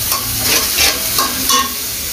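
Spices with salt fry in oil for a shrimp malai curry as a spatula stirs them, a loud close sizzle with a few rhythmic scraping strokes against the pan.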